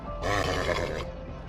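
A horse in the video game Minecraft gives a loud, close neigh of about one second, a harmonic grunting whinny that quickly fades, heard alone.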